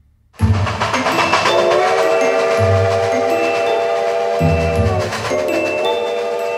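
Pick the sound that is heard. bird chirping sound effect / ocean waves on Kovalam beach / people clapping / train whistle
train whistle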